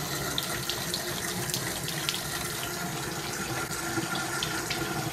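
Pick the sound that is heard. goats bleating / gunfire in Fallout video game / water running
water running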